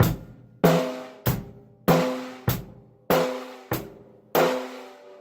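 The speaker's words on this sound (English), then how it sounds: "4 hits on the cymbal, 1 and 3 on the bass, 2 and 4 on the snare." A basic drum beat played slowly on cymbal, bass drum and snare: eight evenly spaced hits, each ringing out briefly before the next, with no other sound.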